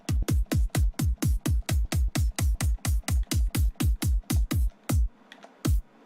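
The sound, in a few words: synthesized kick drum samples with pitch automation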